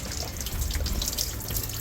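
Water runs and splashes steadily into an enclosed body cavity of an abandoned Ford Bullnose truck being cleaned, a close, continuous trickling with small drips, no voices.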